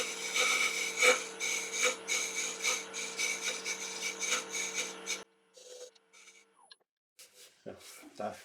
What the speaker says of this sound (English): Little spear point scraper.